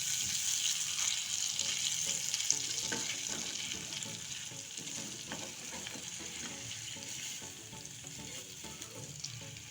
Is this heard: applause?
no